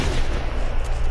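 Sustained, dense gunfire from a multiplayer shooter video game, a loud continuous rattle of shots with heavy low rumble filling the whole moment.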